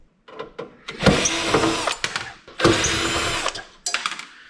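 Power drill whirring in short bursts as it backs screws out of an on-demand hot water heater being scrapped, close and loud with clicks between runs.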